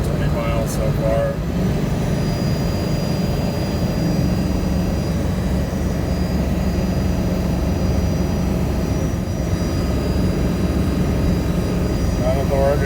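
A Ford 7.3 diesel truck engine cruising at 2200 RPM at about 55 mph, a loud, steady low drone with road and wind roar filling the cab, unchanging throughout.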